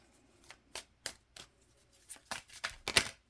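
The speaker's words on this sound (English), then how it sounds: "3 more shuffles" Tarot cards being riffled and shuffled by hand, a string of quick papery bursts at an uneven pace, building to a louder final flutter, close and alone without talk.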